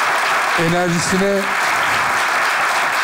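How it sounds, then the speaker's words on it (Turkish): A studio audience at a Turkish TV sketch comedy show applauds for a performer named Fatih. Steady, dense clapping fills the whole stretch while a voice speaks briefly over it. "Fatih'e büyük bir alkış"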